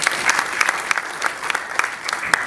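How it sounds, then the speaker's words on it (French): Crowd applauding at a public gathering, brisk continuous clapping with rhythmic peaks, close and fairly loud, with no talk over it. "Est-ce qu'on peut encore applaudir pour l'Excellence s'il vous plaît?"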